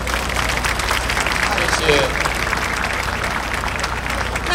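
An audience at an evening rally gives sustained applause, a dense steady wash of clapping from a large crowd, with a voice briefly speaking over it.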